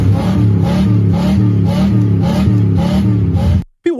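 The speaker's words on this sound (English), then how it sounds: "It's got to be the sound of the car." A car engine revs loudly and close in a steady, pulsing rhythm, surging about every half second for several seconds, then cuts off abruptly into near silence.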